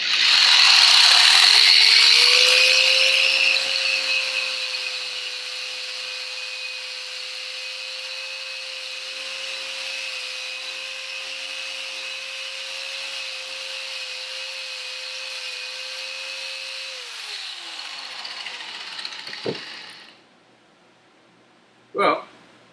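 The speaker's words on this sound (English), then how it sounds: "you can see I switched to the 320 grit drum for the finish on this one" Eastwood Contour SCT sander fitted with a 320 grit drum runs steadily for about seventeen seconds, a sustained high whine with a bright abrasive hiss, then spins down and falls quiet, ending with a brief clunk.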